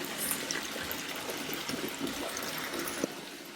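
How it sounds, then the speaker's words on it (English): Water pours steadily into a filling bathtub, a continuous rushing splash with faint gurgles, close by and without voices. "Listen to the sound of the relaxing water."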